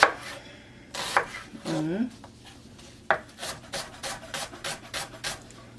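Knife cutting onions on a wooden board for a Middle Eastern tabouli salad, a run of quick, close rhythmic chops and scraping strokes, with a few brief remarks spoken between them.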